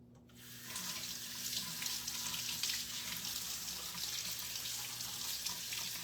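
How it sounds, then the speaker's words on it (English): Kitchen sink tap running for hand washing, a steady rushing stream of water that starts after a brief quiet moment and continues evenly, close and moderately quiet. "I'm just going to set this right here so I can wash my hands and clean up my sink"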